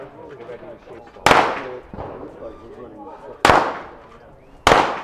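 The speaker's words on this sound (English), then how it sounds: "If you want to shoot pistols in the UK, the easiest way to do it is long barrel pistol shooting." Three sharp, loud long barrel pistol shots crack out at irregular intervals on a Bisley shooting range, each with a short decaying echo, while a voice talks quietly underneath.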